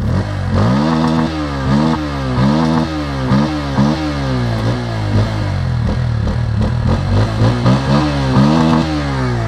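A 2024 Bajaj Pulsar N150 motorcycle's 150cc engine revs repeatedly, rising and falling in quick throttle blips over a steady idle, loud and close.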